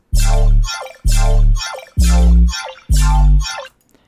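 Four loud, evenly spaced color bass chord stabs, each a heavy bass-rich swell lasting about half a second before cutting off, repeating as a loop with nothing else heard.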